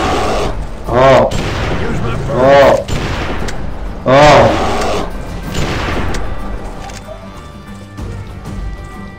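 Rifle gunfire in a video game, three heavy booming shots a second or two apart that ring out and fade, with game sounds and voices around them.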